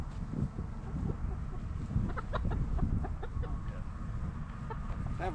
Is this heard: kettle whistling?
no